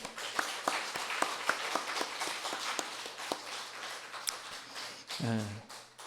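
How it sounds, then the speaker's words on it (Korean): A congregation at a Sunday morning church service claps faintly in a sparse, fairly regular rhythm of distinct claps, with a voice briefly heard near the end. "오늘 처음 나오신 분들을 환영하고 사랑하는 마음으로 큰 박수 한번 하겠습니다"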